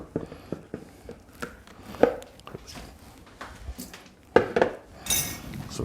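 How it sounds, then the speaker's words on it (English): Homemade fried potatoes for fries are drained in a pan, heard as clanks and knocks of metal cookware with scraping and clinking, irregular and close, ending in a brief rushing hiss. "So we drained our potatoes."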